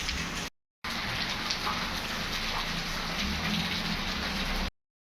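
Heavy rain comes down outside a moving car, a dense, steady patter and hiss of drops on the surface, broken by a brief cut near the start.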